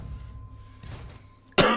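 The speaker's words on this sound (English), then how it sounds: "pardon the cough" A single sharp, loud cough bursts out near the end after a stretch of quiet throat noise and low room sound, close and abrupt.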